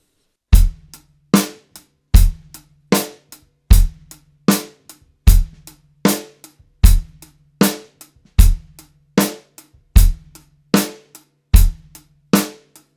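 Drum kit laying down a basic rock beat, bass drum and snare alternating with hi-hat, thirteen or so sharp, evenly spaced hits in steady tempo, close and dry with no talk.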